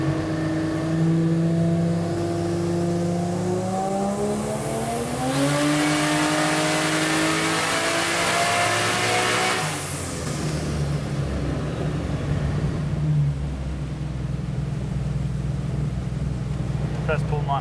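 A tuned Ford Cresta engine on a hub dyno winds up through a long full-boost pull at 24 psi of target boost, its rising harmonic whine loud and steady before easing off to idle. Voices talk over it.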